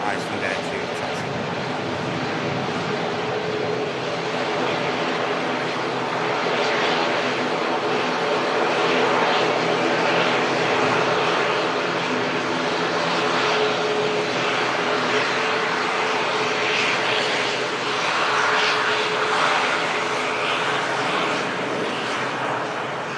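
An Icelandair 737 MAX taxis past on the runway, its engines a steady broad roar that swells and holds for the whole stretch, with voices talking beneath it.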